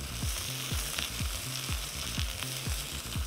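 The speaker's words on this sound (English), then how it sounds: "let them get nice and seared on one side" Meat sears in a very hot pan with a steady, close sizzle, broken by regular stirring and scraping strokes; no voices.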